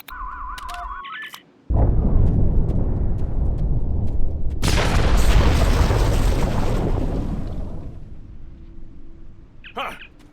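A loud, close explosion blasts apart a rock in the video game Star Trek Online, a sharp boom followed by a long roaring rumble of falling debris that fades over several seconds, with a brief electronic tone before it.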